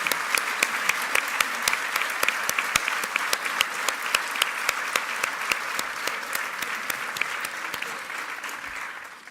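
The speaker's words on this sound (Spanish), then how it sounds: "os pido un aplauso para ellos" Dense, steady audience applause fills a hall at a public talk in Pamplona, many hands clapping close for about nine seconds before fading slightly at the end.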